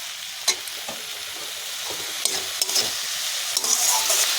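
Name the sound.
stirring dhenki greens frying in a pan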